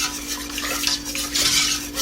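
A whisk rattles and scrapes briskly against a metal pot of cream of broccoli soup, close up, making a busy metallic clatter with a faint steady hum underneath.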